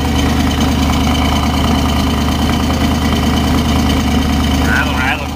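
A Chevrolet Camaro Z28 with its 302 V8 idles steadily and loudly up close, a rough, rumbling low drone holding even for several seconds, with a voice talking over it.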